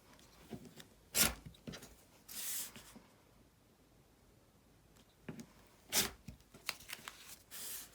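Fabric chunks for half-square triangles are being cut, with intermittent crisp cutting strokes and a couple of longer rasping swipes spread across the stretch, close and fairly quiet, with no voices.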